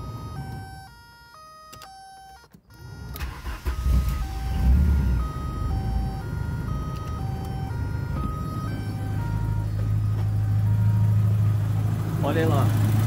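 A car engine with a faulty coolant temperature sensor and racing idle starts and settles into a steady, loud low rumble, beeping tones sounding first and voices talking over the running engine.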